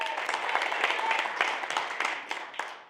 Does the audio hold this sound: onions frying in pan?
no